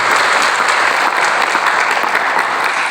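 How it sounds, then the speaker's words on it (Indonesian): Sustained audience applause at an Islamic religious study gathering, dense steady clapping from a large crowd filling the whole stretch without a break. "Kita beri aplaus untuk FK Unsri."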